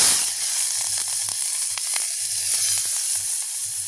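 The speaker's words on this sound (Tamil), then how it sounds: "எண்ணெய் நல்லா கொதிச்சுட்டு நாங்கள் அதோட வெங்காயம் சேர்த்து கொள்வோம்" Onions sizzling and frying in hot, bubbling oil in a pan, a steady broadband crackle with occasional stirring clinks, continuous and fairly close with no talk.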